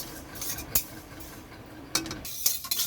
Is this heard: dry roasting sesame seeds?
yes